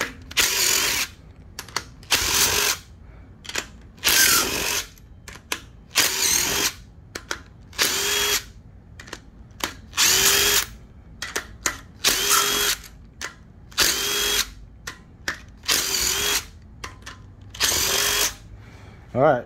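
A power impact tool removing the cylinder head bolts from a Honda K-series JDM engine, about a dozen loud, close bursts of whirring and hammering, each a second or so long, separated by brief pauses.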